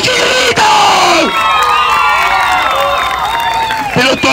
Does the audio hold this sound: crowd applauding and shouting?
yes